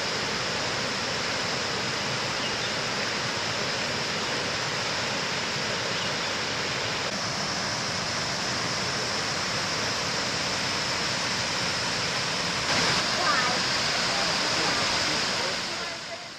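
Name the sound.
Kuang Si waterfalls in Laos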